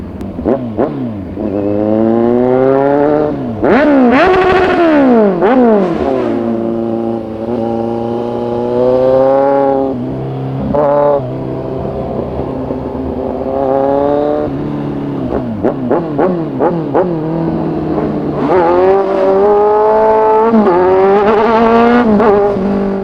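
A Kawasaki Z1000 motorcycle engine revs hard again and again, pitch climbing and falling in loud bursts, close by and continuous throughout.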